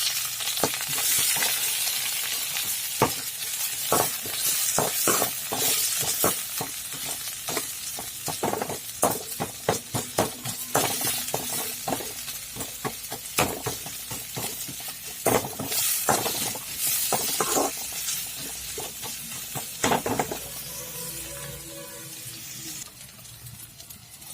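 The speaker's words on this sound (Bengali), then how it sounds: "তেল দিয়ে দিয়েছি, দিয়ে দেবো পেঁয়াজ" Onions fry in hot oil in a kadai for egg bhurji, a steady close sizzle broken by frequent sharp scraping and tapping from stirring, easing slightly toward the end.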